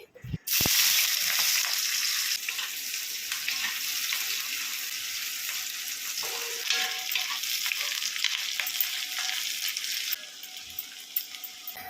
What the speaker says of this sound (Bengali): পেঁয়াজটা প্রথমে একটু ভেজে নিচ্ছি